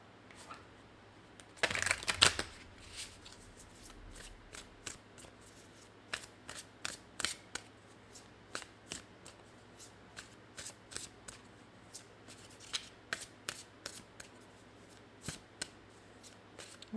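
Tarot cards are shuffled close and quietly, with a brisk riffle burst near the start followed by a string of soft, irregular flicks and taps of cards being handled and laid down.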